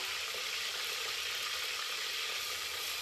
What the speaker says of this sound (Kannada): ಸಣ್ಣದಾಗಿ ಕಟ್ ಮಾಡ್ಕೊಂಡಿರುವಂತ ಆನಿಯನ್ ಅನ್ನ ಆಡ್ ಮಾಡಿದ್ದೀನಿ.